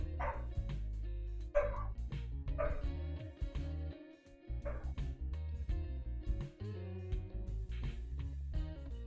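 Repeated barking from a neighbor's dog comes in a string of sharp, loud bursts over continuous background music.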